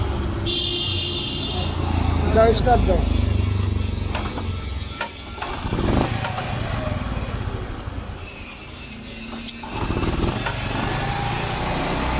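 A Honda Super Cub motorcycle engine idles steadily up close after adjustment, with a few brief mechanical clicks and revs rising over the low rumble.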